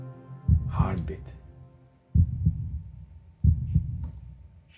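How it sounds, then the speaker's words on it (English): Heartbeat sound effect in a cinematic video edit: three deep, booming double thumps spaced over a second apart, with a low sustained hum beneath and brief faint tonal sounds between beats. "And then we've got the separate heartbeats."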